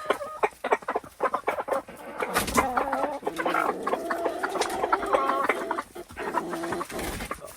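A flock of year-old backyard chickens hatched at home clucks and murmurs close by, a steady overlapping chatter with a few louder calls over several seconds.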